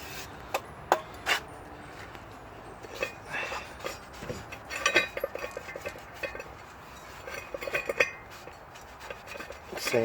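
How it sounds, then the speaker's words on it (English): A new rear brake disc for a Toyota Verso being wiped down with brake cleaner, irregular rubbing and scraping strokes with light metallic clinks, close by. "I'm just cleaning it with the brake clean"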